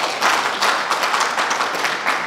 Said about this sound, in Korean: 박수를 한번 해주시기 바랍니다.